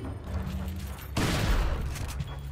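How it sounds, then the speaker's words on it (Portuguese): A single heavy shotgun blast booms out mid-clip over the busy soundscape of the video game Resident Evil 4, followed by rumbling echo. "Agora aquele tiro de shotgun bem na coluna."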